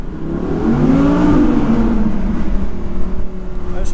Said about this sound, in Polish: Ten samochód po prostu tak mocno przyspiesza.